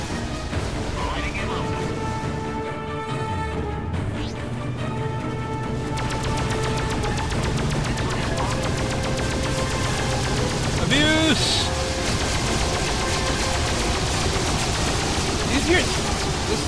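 Space battle against a Nomad battleship in the game Freelancer, with continuous rapid weapon fire, sustained tones and sweeping effects layered over game music, while a player talks throughout.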